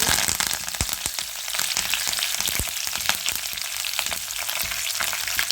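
Loud, dense sizzling of garlic cloves, dried red chillies and curry leaves frying in hot oil, with intermittent sharp pops and crackles throughout, close up and without talk.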